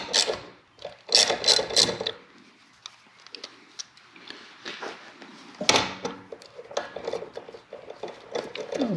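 A ratchet turning a 10 mm socket on a long extension loosens bolts on a Kawasaki H2 750 motorcycle: close, fairly quiet repeated clicking and scraping, with clustered bursts and rubbing between them.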